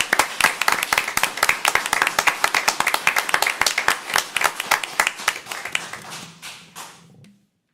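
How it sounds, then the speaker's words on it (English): A council meeting audience gives a round of applause for the fire department team, with crisp, closely spaced hand claps that stay brisk, then thin out and fade to silence near the end. "Let's give them a round of applause."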